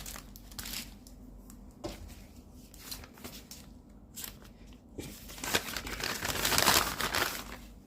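Intermittent crinkling and rustling of plastic bags as lavandin seedlings are packed into them, soft irregular crackles that grow busier toward the end.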